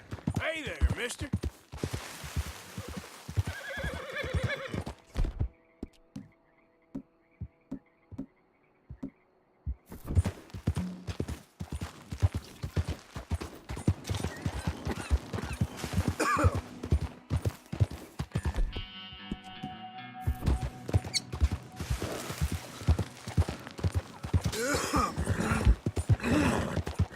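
Rhythmic hoofbeats of a galloping horse in Red Dead Redemption 2 clatter steadily, with bursts of game sound effects and brief quieter gaps between stretches.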